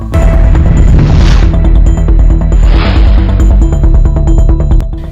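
Firecrackers at a TDP political celebration burst in a dense, very loud barrage of booms and sharp pops, closely packed and continuous, with no speech audible.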